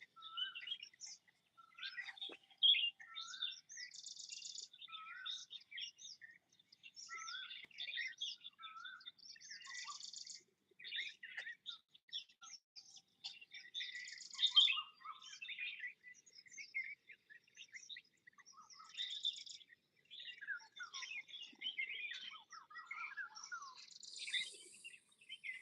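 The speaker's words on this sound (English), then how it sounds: "you must observe certain birds in the background" Several birds by a water body sing and chirp in bright, busy overlapping phrases, fairly close but soft, with a faint insect trill and no talking.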